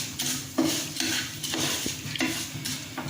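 A spoon stirs vermicelli (sewaiyan) browning in a pan for zarda, a sweet Eid dish. Repeated scraping strokes sound close and steady over a soft sizzle, with a few metallic clinks against the pan.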